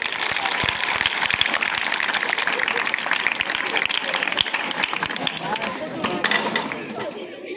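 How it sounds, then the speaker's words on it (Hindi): A crowd of children claps at a staged event on a stage, a steady, dense wash of applause that fills the whole stretch, with some chatter mixed in. "अरे ताली बजा दो।"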